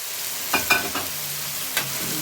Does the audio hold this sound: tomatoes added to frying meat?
yes